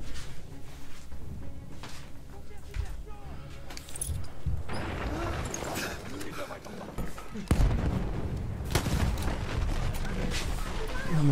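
Grenade blast and gunfire in a Battlefield 1 team deathmatch, with a loud booming burst partway through over ongoing battle noise and scattered shots, while a voice talks intermittently.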